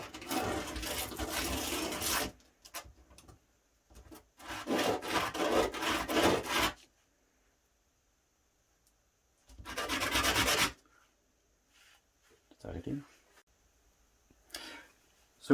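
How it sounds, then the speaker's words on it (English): Sandpaper rubs against a plywood ring in several long bursts of steady scratching, separated by pauses, with a small clatter near the end. "once you've finished sanding and you're happy with your results"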